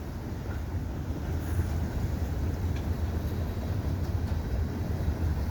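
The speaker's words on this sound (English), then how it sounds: "CP train is really crawling." A slow-moving CP freight train of double-stack containers and auto racks rolls past in winter with a steady, dense low rumble that holds evenly throughout at moderate loudness.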